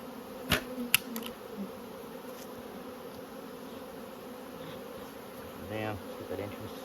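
Honey bees droning around an open hive while supers are added at Nymboida, a continuous soft buzz broken by a few sharp knocks from the hive work.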